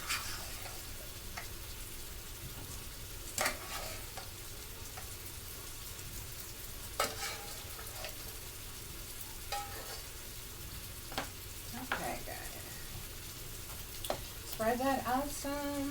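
Drained potatoes frying in leftover bacon grease in a pan, a steady crackling sizzle with occasional spatula knocks and scrapes beneath a speaking voice.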